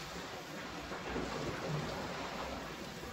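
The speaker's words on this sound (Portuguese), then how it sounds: "A chuva está apertando, hein?" Heavy rain pours steadily throughout, a dense continuous hiss with low rumbling thunder rolling underneath, fairly faint and unbroken, with no voices.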